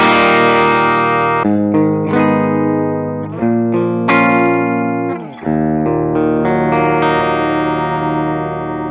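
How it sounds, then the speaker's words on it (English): An Ernie Ball Music Man electric guitar played through its bridge humbucker pickup rings out in sustained, dark-toned chords with distortion and effects, several strums each left to ring loudly with no talking. "That bridge humbucker is really dark."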